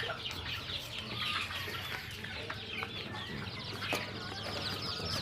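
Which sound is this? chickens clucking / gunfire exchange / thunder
chickens clucking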